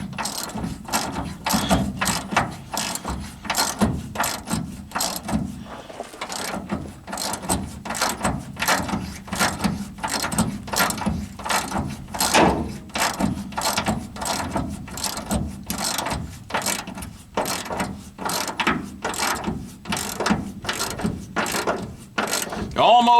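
A ratchet tightens the rear shock nuts on a 1986 Ford F-150, rapid rhythmic metallic clicking in repeated strokes, close and loud, with brief pauses between bursts.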